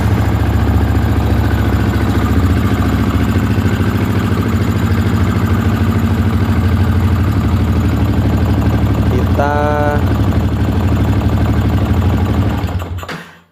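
A fuel-injected motorcycle engine, recently stalled over a sensor fault, idling steadily with a loud, even low hum close by, a short whine partway through, until it cuts off at the end.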